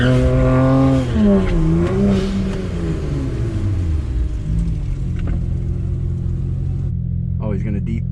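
A turbocharged drag race car does a light burnout, its engine revving hard with rising and falling pitch and tire squeal, then settling into a loud rumble; a voice speaks briefly near the end.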